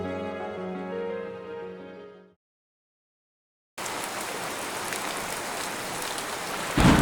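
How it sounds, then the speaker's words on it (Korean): A sudden rainstorm with thunder over a forest: after a passage of music and a brief silence, a steady, dense hiss of heavy rain takes over, swelling into a louder rumbling burst at the end. "이튿날 갑작스런 폭풍우가 몰아쳤고 홍수로 숲이 범람했다"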